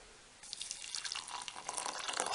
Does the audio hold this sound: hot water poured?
yes